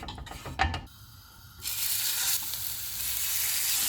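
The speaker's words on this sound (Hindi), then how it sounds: "इनको फ्राई करते हुए हम चूल्हे को कम रखेंगे" Beef burger patties frying in an oiled pan over a low flame: a few clicks and clatter at first, then a loud, continuous close sizzle that builds and holds.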